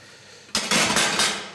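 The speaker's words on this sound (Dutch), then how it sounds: "We gaan een klein potje opzetten voor onze eitjes te koken." A small metal cooking pot for boiling eggs is set down onto a stovetop with a sharp clank, followed by a brief rattle in a kitchen during preparation of sole strips with tartare.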